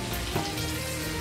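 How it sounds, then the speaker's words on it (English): Butter melts in a pan with a dense, steady sizzle and fine crackling, loud and close throughout the short moment. "So we're gonna let the butter melt."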